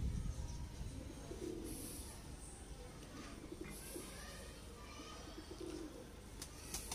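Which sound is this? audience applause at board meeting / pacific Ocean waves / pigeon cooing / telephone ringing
pigeon cooing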